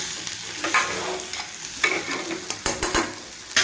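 Raw banana pieces fry in a pan with a constant sizzle, broken by several sharp scraping knocks from stirring, all close and without speech.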